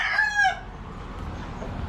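A rooster crows once, fairly near, with a short bright call lasting about half a second, then only faint background hiss remains.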